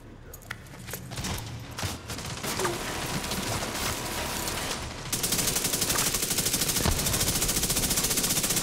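LMG fire in The Division 2 inside a federal emergency bunker, scattered shots at first, then a long sustained rattling burst of rapid automatic fire that runs to the end, close and loud.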